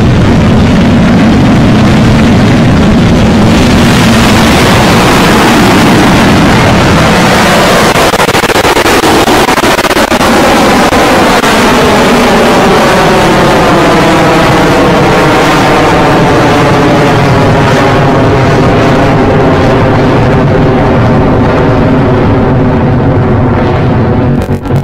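Rocket Lab Electron rocket on its second test flight, a very loud, sustained roar from engine ignition and liftoff, with rising and falling tonal sweeps as the rocket climbs and the noise rumbles on.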